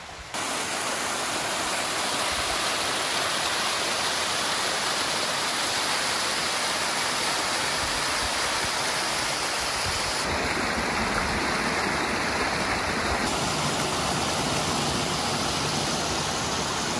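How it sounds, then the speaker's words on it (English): Waterfalls and a stream beside a canyon trail give a steady, loud, broadband rush of falling water that holds unbroken throughout, with no voices. "We're just stopping for a little break here and enjoying these waterfalls."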